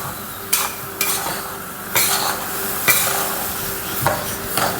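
Rava being stirred and roasted in a pan, with a spoon scraping and knocking against the metal in roughly regular strokes about once a second over a steady dry sizzle, close and fairly loud.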